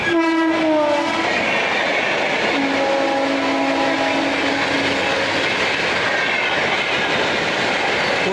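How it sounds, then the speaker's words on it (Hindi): Kota Patna Express passing at a crossing, its horn blaring loud and close with long sustained tones in the first few seconds, then a second horn blast while dense wheel and carriage rumble continues steadily throughout. "कोटा पटना एक्सप्रेस साथ क्रॉसिंग हुई है"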